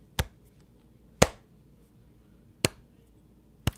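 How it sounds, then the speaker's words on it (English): Four sharp, isolated hand claps spaced about a second or more apart form a deliberate slow clap, close and distinct against near silence. "That's the slow clap."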